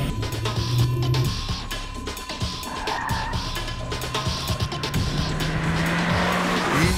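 Race car tires squeal continuously through a handbrake section of a Camp Block course, with the engine roaring and shifting pitch underneath, loud and close throughout.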